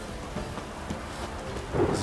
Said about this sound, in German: Gewitter, ne?